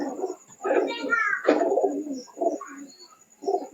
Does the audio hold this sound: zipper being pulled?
no